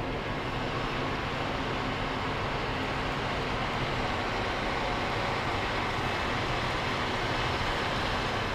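A Fendt 939 tractor pulls a plough under heavy load, its diesel engine giving a loud, steady, dense roar that holds without pause throughout.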